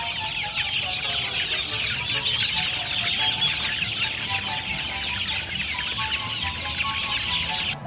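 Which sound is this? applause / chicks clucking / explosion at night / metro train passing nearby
chicks clucking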